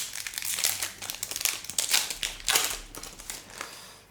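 The plastic wrap of a Yu-Gi-Oh card display box crinkles and tears as it is opened, a close, busy run of crackling and rustling bursts.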